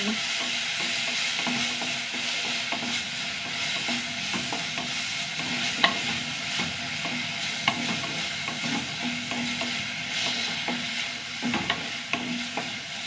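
Ingredients sizzle and are stirred in a hot pan while making tomato moru curry, a steady frying hiss with occasional scraping clinks of the spoon against the pan, with no talking.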